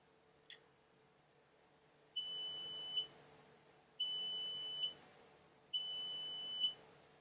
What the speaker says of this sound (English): I tested the connection using the continuity mode of my multimeter